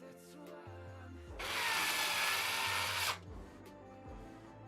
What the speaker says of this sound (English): just putting our screws in